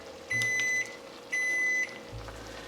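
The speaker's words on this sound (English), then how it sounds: "that is the 10-minute timer" A kitchen timer beeps twice, each a steady electronic tone lasting about half a second, with a pause between them, heard alone over low room hum in a home kitchen during lunch cooking.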